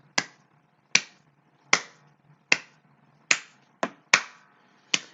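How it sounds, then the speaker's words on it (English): Eight sharp claps in a steady, evenly spaced rhythm for a wrestling podcast intro jingle, each one crisp and close with a quick decay, heard alone with no voices. "Now just the claps."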